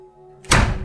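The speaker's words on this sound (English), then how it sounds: "A door slammed." A single heavy door slams shut inside an apartment, a loud close thunk that rings out briefly after a quiet moment with a low steady hum beneath.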